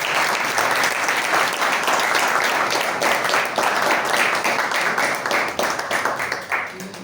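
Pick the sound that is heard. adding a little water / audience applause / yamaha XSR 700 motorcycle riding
audience applause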